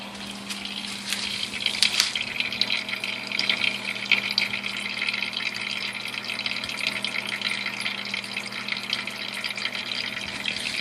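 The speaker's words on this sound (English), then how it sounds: "You can hear the fluid pouring out." Brake fluid pours out continuously while bleeding the brakes on a Nissan Hardbody D21 pickup, a steady rushing, splashing flow with a low constant hum beneath it and no voices.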